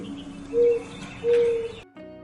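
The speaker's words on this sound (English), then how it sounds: "Doves coo." A dove gives two soft, tonal coos about half a second apart, close and clear, before the sound cuts off.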